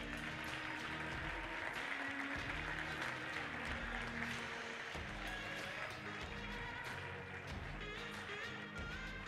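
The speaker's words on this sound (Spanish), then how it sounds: "voy a pedir la presencia y el aplauso para sus entrenadoras Virginia Villalba y" An artistic swimming gala crowd applauds two coaches, a sustained, fairly distant clapping spread across a large hall with some voices and music underneath.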